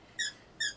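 A dog plays with a squeaky toy, which gives two short, high squeaks about half a second apart, close by and fairly quiet.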